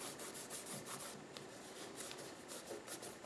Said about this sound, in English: And you just rub